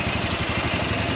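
A motorcycle idles up close, its engine giving a steady, even throb with a rhythmic low pulse throughout the short moment.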